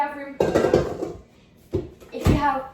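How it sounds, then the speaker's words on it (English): A spatula scrapes the sides of a mixing bowl holding room-temperature butter for biscoff cupcake batter, in a few short, close, scratchy strokes separated by pauses, with a voice speaking nearby. "So you just want to scrape down the sides of the bowl."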